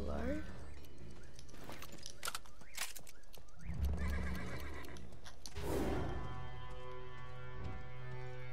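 A horse mount in the Realm Royale video game whinnies loudly among clip-clopping hoofbeats, with other game effects around it at close range.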